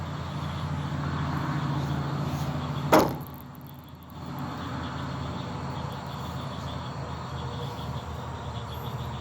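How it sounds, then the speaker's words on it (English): Steady chorus of frogs or insects calling in the night, continuous and fairly loud, interrupted briefly by a sharp knock or clatter. "I mostly just hear the frogs and stuff."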